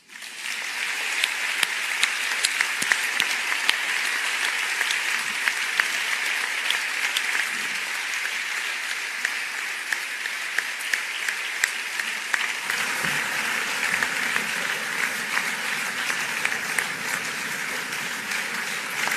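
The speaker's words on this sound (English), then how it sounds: "a warm round of applause from everybody" Warm audience applause closing a morning session of a talk by the Dalai Lama on universal human values and education: a large crowd claps steadily and fairly loudly, a dense even roar with crisp individual claps, easing slightly near the end.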